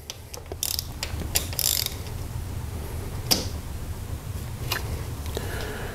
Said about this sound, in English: So now we're gonna loosen the adjuster bolt so the spring can set the tension on the belt. So loosen this 13 millimeter bolt right here,